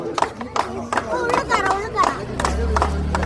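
Spectators at a water-drinking contest clapping in a rhythmic beat that grows looser, with chatter mixed in and a low rumble toward the end.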